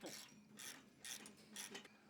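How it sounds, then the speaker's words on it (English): An Allen key and wrench tighten the bolts on an offset mount, producing four quick metallic ratcheting bursts at a steady rhythm, close and fairly quiet, with no voices. "grab your Allen key and your wrench and go ahead and tighten those bolts up"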